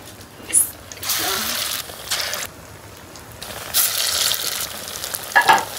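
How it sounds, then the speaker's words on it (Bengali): Lentil fritters (bora) frying in hot oil crackle and sizzle close by in loud surges, with a few spoon scrapes and stirring clinks between the bursts. "অল্প স্বল্প করেই ভাজতেছি কারণ আমরা তো একটা পারিও না"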